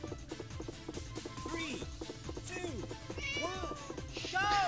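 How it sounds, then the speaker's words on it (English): A cartoonish cat character in an arcade racing game meows several times in bright, rising calls over busy game music and engine hum, with someone talking. "Hey look, it's Mr. Cat."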